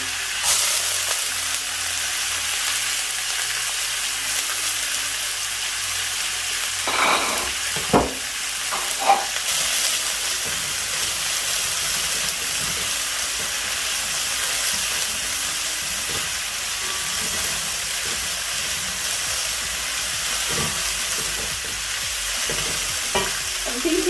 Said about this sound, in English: I'm also just going to throw some garlic to flavor the oil